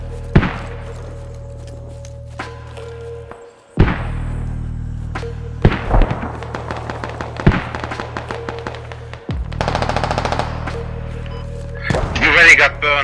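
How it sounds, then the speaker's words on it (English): Mortar fire in the video game Squad lands as a series of sharp, heavy booms and thuds at irregular intervals, some close and loud, with brief bursts of rapid crackling in between and occasional voices. "Friendly mortar teams were getting ready."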